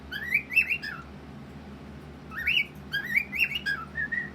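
A pet bird gives short whistled phrases, two bursts of rising and falling notes close by, separated by a quiet pause.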